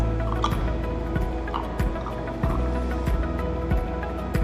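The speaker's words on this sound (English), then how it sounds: "A gas is coming from the bottle in which there is a reaction." Gas from a reaction of acetic acid bubbling through lime water makes soft, irregular bubbling and dripping plops that repeat close by and steadily, with a low continuous burble underneath and no speech.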